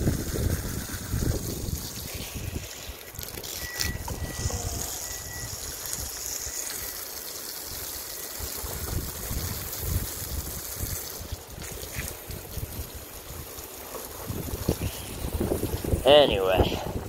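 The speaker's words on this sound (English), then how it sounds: "the wind is just blowing this back at me" Gusty wind buffeting outdoors in a sunny San Diego garden, a rough low rumble of wind across the microphone rising and falling throughout, with someone talking intermittently over it.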